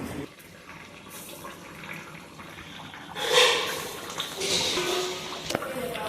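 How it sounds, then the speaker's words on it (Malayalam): Chicken curry bubbling at a rolling boil in a clay pot, a steady wet gurgle and spatter that swells louder partway through. "ഇപ്പോൾ നല്ല തിളയ്ക്കുന്നുണ്ട്"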